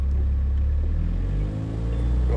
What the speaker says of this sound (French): Mais là, j'accélère, là, je recule, là.